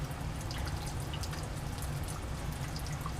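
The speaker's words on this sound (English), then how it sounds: "So that's a nice slow drip rate." Bromobenzene dripping slowly into a Grignard reaction flask in a lab, faint sparse liquid drips over a low steady background hum, quiet and close.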